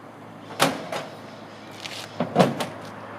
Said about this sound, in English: I really like the way that hood closes.